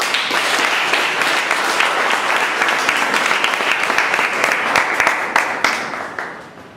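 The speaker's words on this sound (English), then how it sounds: "So let's give Toastmaster Esther and the President a round of applause." Loud, close applause from a Toastmasters club meeting, a thick steady patter of many hands with distinct sharp claps near the end before it tapers off.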